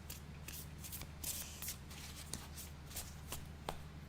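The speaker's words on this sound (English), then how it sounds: "while I'm shuffling." Tarot cards being shuffled, a soft close riffling and slapping in quick repeated bursts, quiet and unaccompanied by talk.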